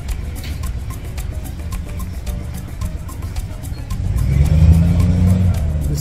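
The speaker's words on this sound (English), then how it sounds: "a lot of traffic here." Busy street traffic in Tula, Mexico, with car engines rumbling steadily nearby and a louder vehicle accelerating past toward the end.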